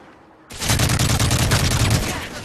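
Loud, rapid gunfire in an online multiplayer shooter game, a sustained automatic burst that begins abruptly and runs for about two seconds.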